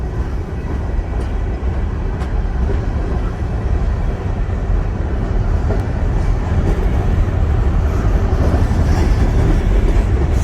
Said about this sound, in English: When the train stops, it's right at a road crossing.